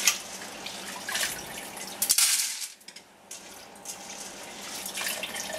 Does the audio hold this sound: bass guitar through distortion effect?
no